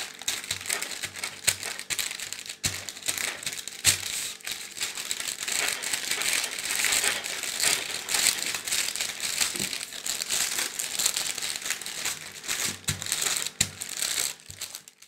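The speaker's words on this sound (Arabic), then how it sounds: "ها هو دابا غادي نطلقوه بالمدلك" Tart dough being rolled out with a rolling pin on a baking surface dusted with flour, giving steady crinkly rubbing and rolling noise in irregular strokes, close up, with no talking.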